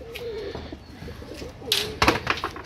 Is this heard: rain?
no